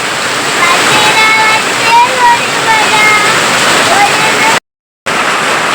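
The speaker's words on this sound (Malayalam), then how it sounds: "മഴയെന്ന് പറഞ്ഞാൽ മഴ. നോക്കിയേ, ഇടില്ല മഴ, സൂപ്പർ മഴ, മഴ മഴ" Loud, dense rain roars steadily up close, a constant heavy wash with faint voices under it, cut by a brief silent gap near the end.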